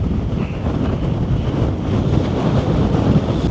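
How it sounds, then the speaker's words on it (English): Steady, heavy wind rumble buffets the microphone outdoors, a constant loud low roar with no pauses or voices. "Hope you can hear me with this wind."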